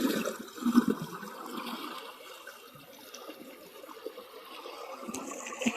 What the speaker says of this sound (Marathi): पाणी कसलं वाहतंय बघा सुसाट एकदम पाणी येते